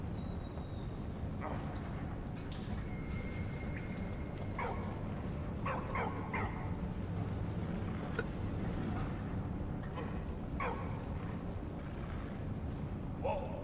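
A dog in the World War I game Valiant Hearts: The Great War yips and whimpers in scattered short bursts over a steady low background rumble.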